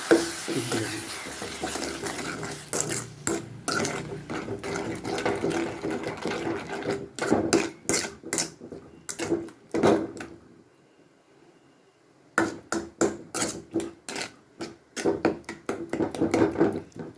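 Raw mango pachadi is stirred and mashed with a ladle, giving repeated wet scraping and squelching strokes in steady bursts, close by, with a brief quiet pause midway before the stirring resumes.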